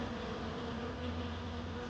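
Bees hum in a dense, continuous buzz close by near a feeder, with many insects droning together at an even level and no voices.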